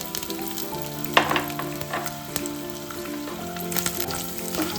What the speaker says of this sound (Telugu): ఇది వేసుకొని కొంచెం వేయించుకోవాలండి.